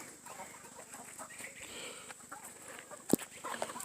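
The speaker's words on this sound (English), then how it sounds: "See all those roosters on the outside trying to get in?" Roosters clucking outside a coop, heard faintly and at a distance, with low scattered calls and one brief sharper sound near the end.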